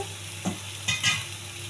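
Onion and green beans frying in a pan with curry leaves, cumin, mustard seeds and soaked chana dal, a steady soft sizzle with a few brief spatula scrapes and stirs close by.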